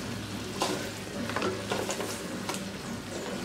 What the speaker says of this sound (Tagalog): Parang itutusta natin ito. Haluin lang natin.